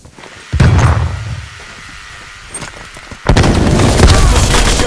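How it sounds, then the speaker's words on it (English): A stun grenade detonates in the video game Call of Duty: Black Ops Cold War, a loud broadband burst followed by a quieter stretch, then a second dense, sustained blast of noise to the end. "Throwing stun!"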